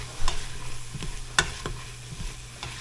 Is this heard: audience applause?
no